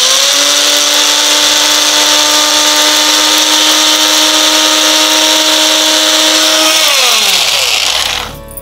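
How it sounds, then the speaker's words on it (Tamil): A mixer grinder whirs at a loud, steady high pitch as it grinds herbal ingredients into powder, then its motor winds down and stops near the end. "இப்போ இந்த பொருட்கள்லாம் நம்ம அரைச்சிக்கலாம். அரைச்சி இது ஒரு பொடியை தயார் பண்ணிக்கலாம்."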